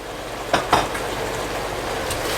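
Mushroom soup ingredients seasoned with chili powder, red pepper flakes and black pepper fry in a pan, a steady soft sizzle broken early by two sharp scrapes of the stirring utensil against the pan.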